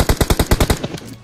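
Rapid automatic rifle fire in PUBG Mobile, about eight sharp close shots in an even burst that then trails off into fading echoes.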